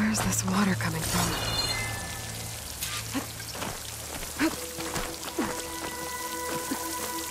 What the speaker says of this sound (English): Where's this water coming from?